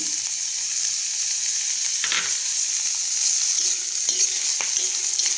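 Curry leaves sizzle and crackle in hot oil over a medium flame, a steady close frying hiss with a few sharper pops and spatters as they hit the pan.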